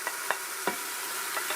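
Beef chunks and crushed garlic sizzle in a pan under a steady, faint frying hiss, broken by a few soft stirring taps in close succession.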